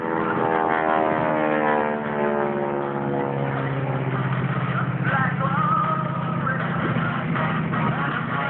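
A T-6 propeller airplane at an airshow flying away, steady droning engine and prop hum with a pitch that shifts and sweeps downward as it recedes, fairly loud and continuous.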